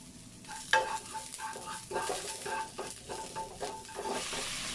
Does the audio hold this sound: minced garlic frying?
yes